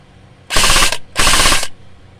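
A gun fired on full auto rips out two loud, close bursts of rapid fire, each lasting about half a second with a short gap between them, and no talking.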